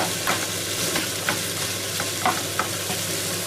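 Vegan scrambled tofu cooking in a pan, a close, steady sizzle broken by repeated scraping and stirring strokes from a spatula.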